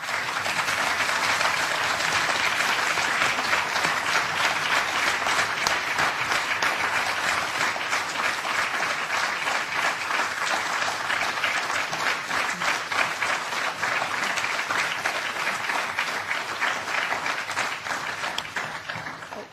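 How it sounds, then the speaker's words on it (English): Sustained applause fills a European Parliament committee hearing on NSA mass surveillance, a dense steady clatter of many hands holding loud and even for about twenty seconds before easing slightly at the end. "It's not very, very common that we have applause in this committee"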